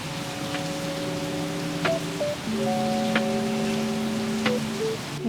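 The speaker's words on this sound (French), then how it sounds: "Bon, vous avez vu la pluie" Steady rain falls in an outdoor setting, a constant broadband hiss with a few sharper drop hits, while steady tonal hums run underneath throughout.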